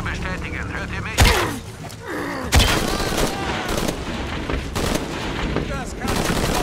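Gunfire in the video game Shadow of the Tomb Raider: loud, sharp shots at about 1.2 and 2.5 seconds are followed by sustained rapid fire that sounds like a battle, with voices talking throughout.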